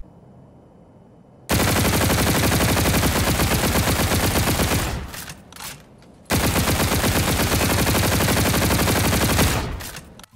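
X-EON assault rifle from Infinite Warfare firing in two long sustained bursts, each a dense, loud rattle of automatic fire lasting several seconds and separated by a short silence, with the second burst at a faster rate.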